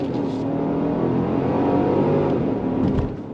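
A 2025 Genesis GV70 3.5T SUV engine roars steadily under full-throttle acceleration, close and loud, with a dense rumbling growl that eases slightly at the end.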